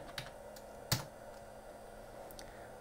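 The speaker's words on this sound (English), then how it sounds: "Type in your super secret passcode coming up here in just a second." A few keys tapped on a computer keyboard while entering a passcode, mostly sparse soft clicks with one sharper keystroke near the start, quiet and close in a still room.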